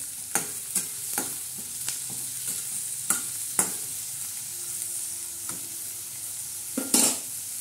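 A chickpea usal tempering of tomatoes and salt fries steadily in a pan with a constant hiss, broken by sharp scrapes and clinks of a spoon stirring at close range.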